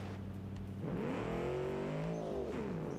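A turbocharged car engine in a modding racing game revs up and holds a straining, whirring tone with rising and falling harmonics, loud and close, with no talk over it.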